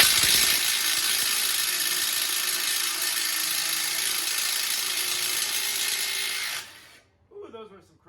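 A cordless Ryobi power tool with a 24 mm deep socket spins steadily for about seven seconds, loosening crusty lug nuts on a 2013 Ford Explorer, then cuts off, followed by brief talk.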